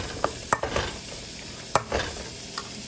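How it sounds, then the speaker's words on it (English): A scalloped potato mix with milk and butter being stirred in a pot, with several distinct clinks and scrapes of a spoon against the side over a soft background hiss, close by, no voices. "I'm just gonna stir it up so you guys can see"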